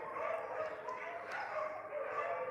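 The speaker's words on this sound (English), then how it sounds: "बाहर वाला डॉग्स जो पार्क के अंदर आने का कोशिश कर रहा है, इसलिए अंदर वाला डॉग्स जो गुस्सा कर रहा है" Stray dogs bark angrily at a park with fast, yappy barks and whimpers that come through faintly and from a distance, with a person talking over them.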